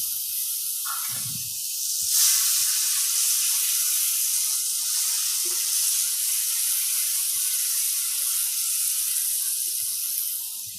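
Mustard seeds sizzle in hot oil while tempering, producing a steady frying hiss with occasional soft pops and a faint clink from the pan.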